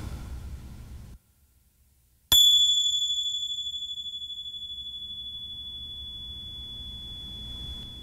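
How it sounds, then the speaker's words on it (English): A single meditation bell is struck once after a short silence, ringing out clear and loud with a long, slowly fading sustained tone that lingers to the end. "letting your ears follow the sound of the bell."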